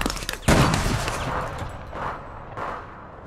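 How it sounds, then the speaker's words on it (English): Gunfire in the online shooter game APB Reloaded: a sudden loud blast followed by rolling echo, then two more shots a second or so apart, with no talk. "Someone's trying to shoot at him."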